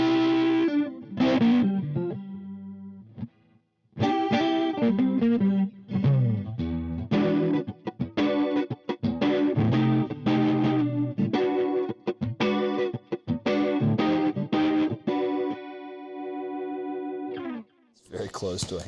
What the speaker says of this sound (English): And it goes into an Arion stereo chorus.